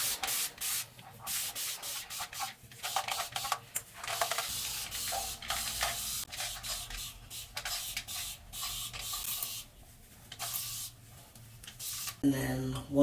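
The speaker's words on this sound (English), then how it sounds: "once I spray it down" A hand spray bottle mists water onto locs in a series of short hissing bursts, close up, mixed with rubbing and scrubbing noises from hands working through the hair.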